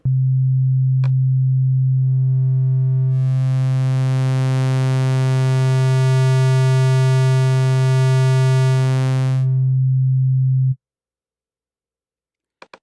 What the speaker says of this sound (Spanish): Escuchemos cómo podemos ir fusionando o haciendo una metamorfosis entre estas formas de onda.